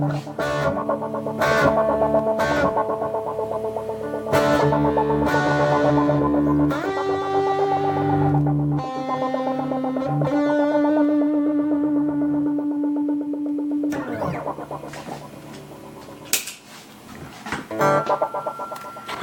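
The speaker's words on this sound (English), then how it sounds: "I'll chuck my distortion on and get some." Distorted synthesizer from a groovebox's dual and filter machines plays a gritty, buzzing riff with rich harmonics, loud and continuous with short rhythmic breaks and a changing pattern near the end.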